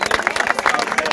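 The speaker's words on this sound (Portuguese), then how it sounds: "Uma salva de palmas pra todo mundo que participou." Brief burst of crowd clapping at a street MC gathering in a public square, close and busy, with voices mixed in.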